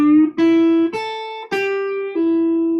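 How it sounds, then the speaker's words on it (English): Clean electric guitar playing a slow beginner lead phrase that mixes string bends and pull-offs, five distinct sustained notes with pitch slides between them, close and alone. "now we're doing a combination of bends and pull-offs"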